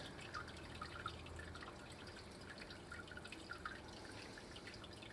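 Two litres of 75-degree sparge water trickles slowly over oatmeal stout brewing grains, a faint, steady patter of drips and running water throughout.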